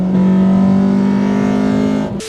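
A 1992 Honda Integra XSi with its VTEC engine revs hard, a loud, close, sustained buzzing engine note holding high for about two seconds before dropping off abruptly.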